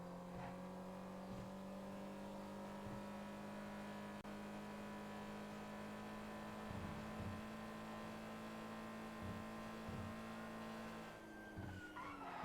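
A Toyota Prius in a video game drives with a steady synthetic engine hum that holds a sustained tone, punctuated by repeated tire skids and squeals, constant and fairly loud without speech.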